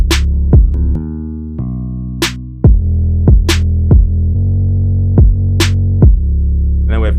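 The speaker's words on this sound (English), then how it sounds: "Next up, we have the snare." A snare drum in a trap-style FL Studio beat cracks out in sharp, loud hits every second or two over a deep sliding 808 bass and sustained synth chords, with no talking.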